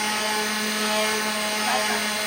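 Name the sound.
power sanding a wooden coffee organizer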